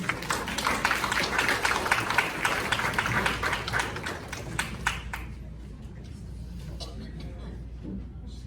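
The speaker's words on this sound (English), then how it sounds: "give a big round of applause to welcome your speaker today, Miss Paige Palmer" An audience applauds to welcome a speaker, Miss Paige Palmer: dense, steady clapping for about five seconds, then thinning to a few scattered claps over a quieter room.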